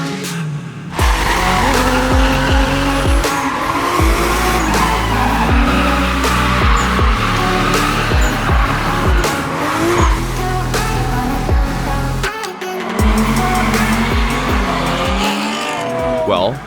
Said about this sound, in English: here's the IS300 drift build from Fisch Racing